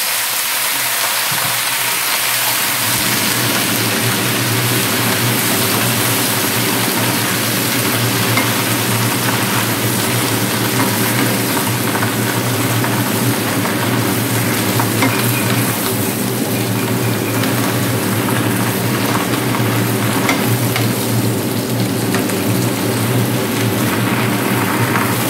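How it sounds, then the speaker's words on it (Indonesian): Vegetables stir-fry with garlic in a hot pan, a loud, dense hiss that swells in after a couple of quiet seconds and then holds steady and close throughout, with no one talking. "Tumis sampai matang."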